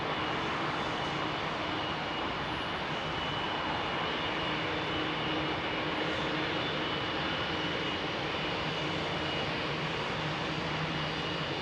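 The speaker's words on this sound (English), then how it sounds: "That's a stored aircraft that's going to be returned to its lease company, probably." A jet aircraft engine at London Heathrow Airport gives a steady, loud broadband roar with a constant whine, an unbroken drone that holds at the same level throughout.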